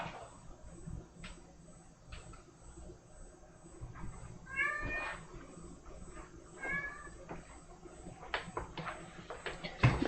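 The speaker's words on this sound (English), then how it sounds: "keeps meowing at me. I think he's hoping that I'm gonna feed him" A house cat meows twice in a quiet room, short drawn-out calls a few seconds apart, with faint tapping and clicks of an art studio around them.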